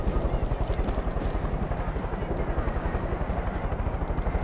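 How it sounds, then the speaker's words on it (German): Attacking helicopter in Far Cry 5, a steady rapid rotor thump close by, loud and continuous throughout with a low, pulsing drone. "Kommt jetzt dieser Kack-Hubschrauber, der mich hier angreift?"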